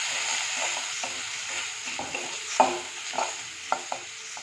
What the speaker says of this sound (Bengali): এবারে মশলাটাকে আবার ভালো করে একটু কষিয়ে নেব